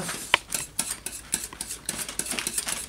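Metal fork repeatedly pricking dough for a banana dessert pizza in a tart tin, a quick series of close, light clinks and taps with brief scraping in between.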